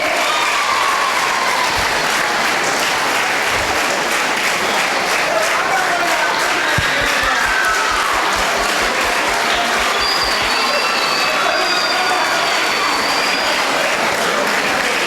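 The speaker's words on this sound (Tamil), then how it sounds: "தயவு செஞ்சு உங்களுடைய கைத்தட்டல்கள் கொடுத்துட்டே இருக்கலாம், தவறே கிடையாது" A stage-event audience in Tamil Nadu keeps up loud, continuous applause. The clapping is dense and steady, with low thumps, a few scattered calls and faint music mixed in.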